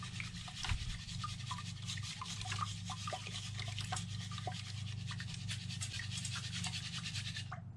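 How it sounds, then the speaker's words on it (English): Sluice concentrate is shaken in a 20 mesh sieve, producing a continuous gritty rattling and scraping of wet sand and gravel against the screen, close up over a low steady hum. "Use this 20 mesh sieve. Put a scoop of the material into the sieve."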